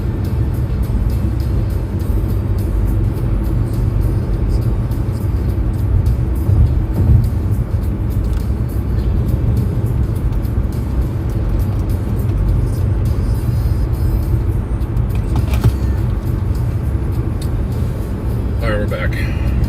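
Interior of a car driving on a road, a steady low rumble and road noise throughout, with a few faint clicks near the end and no clear speech.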